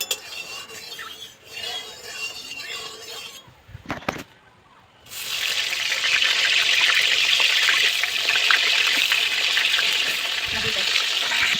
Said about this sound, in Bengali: এবার আমি পটলগুলো ভেজে নেব কড়াই সরিষার তেল দিয়ে দেব